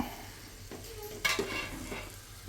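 Tomato and masala being sautéed and stirred in a pan for beef biryani, with soft scraping strokes and faint sizzling over a low kitchen hum, one sharper utensil knock midway.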